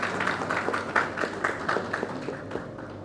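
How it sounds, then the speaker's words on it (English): An audience at a panel on ethical AI and cybersecurity claps to welcome a panelist, a short burst of fairly close applause with distinct individual claps that thins out toward the end. "Round of applause, ladies and gentlemen."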